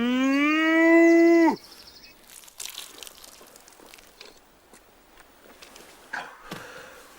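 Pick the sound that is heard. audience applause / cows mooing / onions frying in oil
cows mooing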